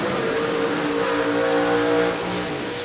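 A loud supercharged drag car engine on a scale-model Camaro roars and revs steadily up close at a no-prep drag race, its pitch holding high before easing off slightly at the end.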